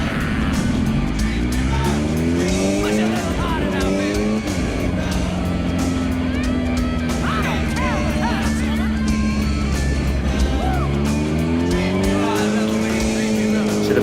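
A motorcycle engine running on a dyno with the brake engaged at a 3000 RPM set point: a loud, continuous engine drone that rises and falls in pitch as it revs, with a voice talking over it.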